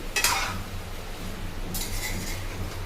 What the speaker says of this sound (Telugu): టమాటాలు ఇలా వేసుకొని మంచిగా కలుపుకోవాలి